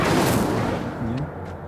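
Incendio fire spell cast in the Hogwarts Legacy video game, a loud whooshing burst of flame that swells at once and then tails off over about a second.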